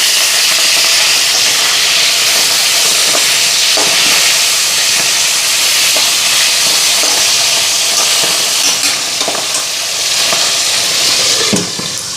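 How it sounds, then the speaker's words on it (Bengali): Fish heads sizzle and hiss steadily in hot oil in a pan, a loud, continuous frying roar with occasional pops and clinks of a utensil. "এদিকে ভাজা নামাইয়া মাছের মাথাগুলি ভাজা বসাইলাম"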